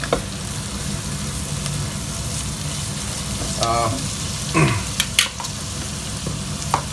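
Garlic and onion frying in a pan for clams in white wine sauce, a steady close sizzle with a few clinks and scrapes of stirring scattered throughout.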